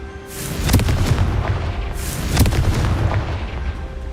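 Two heavy booming blasts about two seconds apart from the Confringo fire spell in Hogwarts Legacy, loud and close, each followed by a rumbling tail, with no talking.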